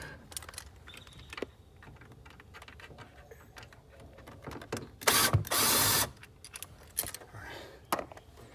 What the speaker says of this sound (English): I just switch over to power ratchet